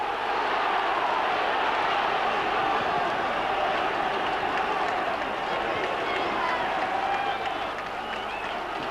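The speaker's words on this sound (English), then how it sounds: "Cardiff crowd enjoying this." A Cardiff rugby crowd at a 1995 match against Swansea roars continuously, a dense, loud, sustained wash of cheering with no break.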